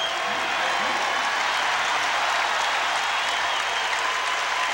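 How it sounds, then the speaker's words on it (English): Basketball arena crowd at an Indiana vs Purdue college game gives a player a loud, sustained ovation, dense applause and cheering filling the whole stretch without a break. "The hand for Damon Bailey as he goes out and the crowd favorite came in"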